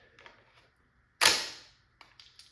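Single sharp pop from a Tippmann TiPX pistol running on a 20g CO2 cartridge, fired once at close range with a hissing decay, set against quiet background and a few soft handling clicks.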